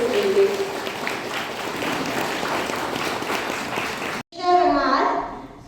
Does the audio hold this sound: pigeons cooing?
no